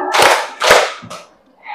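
At a primary school staff meeting, a group follows a clapping routine with two sharp, loud, close claps in quick succession, then a softer third slap, in a quiet room.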